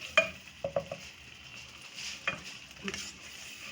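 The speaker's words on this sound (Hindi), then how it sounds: "1 से 2 मिनट फ्राई कर लें इसको भी" Whole spices and green chili paste frying in a pan, a faint sizzle under a few sharp spoon clinks and scrapes, close and quiet with no talk.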